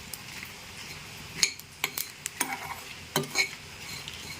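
Coriander seeds and whole spices are dry-roasted in a pan while a spatula stirs them, making a few sharp scrapes and clinks over a faint crackle, close and alone.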